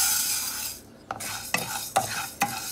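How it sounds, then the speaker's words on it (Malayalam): Raw rice being stirred in a dry pan while roasting, a constant dry sizzling hiss broken by four distinct scraping strokes of a spoon against the metal, roughly every half second, close by and with no talk. "കൈവിടാതെ ഇളക്കണം കേട്ടോളെ"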